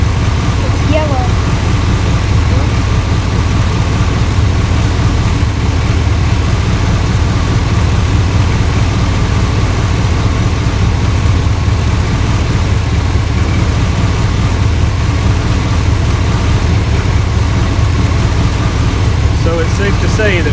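A 1989 Chevy Silverado long bed's engine with a suspected compression leak idles loudly and steadily with a deep, constant rumble up close, while a person talks over it.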